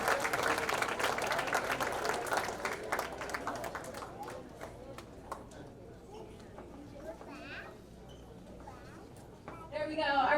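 An audience claps for the percussion section at a sixth-grade school winter concert, a loud burst of applause that tapers off, followed by chatter and speech, then clapping swells again at the end.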